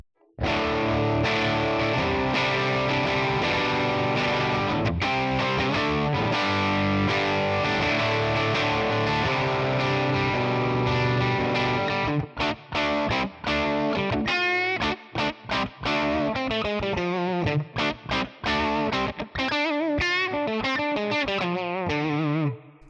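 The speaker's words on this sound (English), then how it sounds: "So let's try this Gibson Falcon with a Les Paul first." A Les Paul electric guitar plays through a Gibson Falcon amp capture on a Tonex One, giving a distorted tone with reverb. Long sustained chords ring first, then a choppier passage of short, stabbing notes and quick runs.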